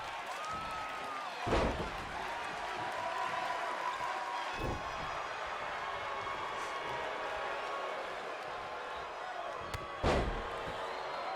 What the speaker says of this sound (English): There's a little power from Eli Hennig as he gets him up and spikes him down